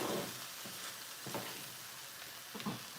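Eggs tossed into a hot stir fry, a soft continuous sizzle with faint scraping and stirring clatter, quiet and close, no voices.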